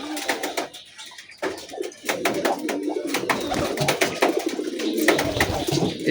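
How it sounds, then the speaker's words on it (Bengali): Pigeons coo repeatedly in soft, throaty phrases over a busy background of chirping birds in the morning after release from the loft, fairly close and steady throughout. "এই কবুতরটা যে ডাকতেছে"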